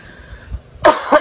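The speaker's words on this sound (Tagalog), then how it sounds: "Kahit po may ubo ako" A woman coughs several times in quick bursts, loud and close, after a brief quiet pause with faint background hum.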